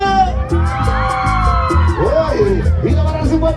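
A crowd of women in an audience at a live Andean music show shouts and cheers loudly over steady band music for a few seconds.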